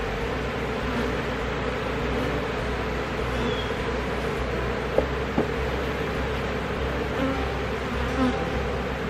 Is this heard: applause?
no